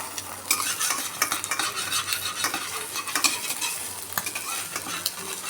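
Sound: stirring and frying egg posto in a pan

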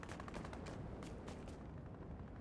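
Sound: distant gunfire in the video game Fortnite

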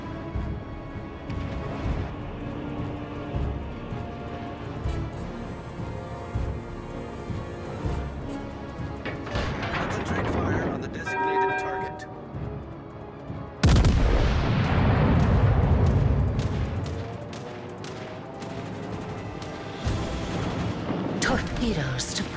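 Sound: artillery fire support in World of Warships: Legends video game

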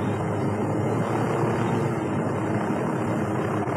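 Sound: helicopter flying in the video game Ghost Recon Wildlands

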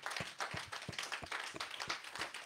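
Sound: church congregation clapping for Jesus

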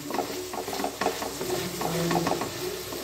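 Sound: stirring onions in a pan for chicken curry

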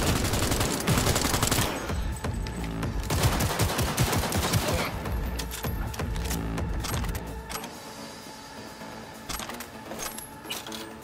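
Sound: gunfire in the video game Cyberpunk 2077

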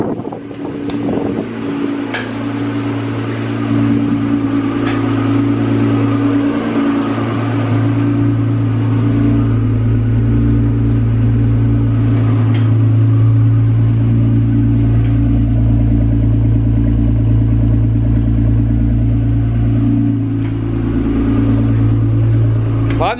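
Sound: sports car driving

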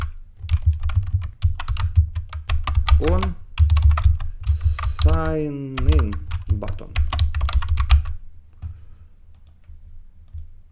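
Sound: typing on a computer keyboard

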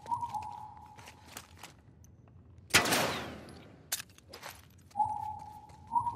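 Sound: gunshots in The Last of Us Part II video game

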